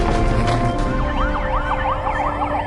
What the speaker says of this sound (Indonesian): Sekarang matikan lampu dan sirine segera.